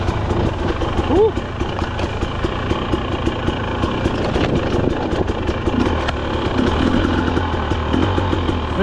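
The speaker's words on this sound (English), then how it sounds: "First ride, 0 hours, TE300 TBI 2024." A 2024 Husqvarna TE300 TBI dirt bike engine runs steadily nearby, a constant mid-pitched drone throughout with a brief rising note early on and voices talking over it.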